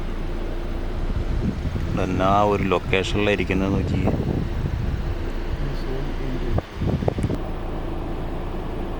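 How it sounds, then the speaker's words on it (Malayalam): Strong wind gusts across a grassy hilltop in the Anamalai hills, a steady low rush and buffeting on the microphone that runs the whole time beneath a voice talking. "ഇപ്പോഴേ നല്ല കാറ്റ് വീശുന്നുണ്ട്"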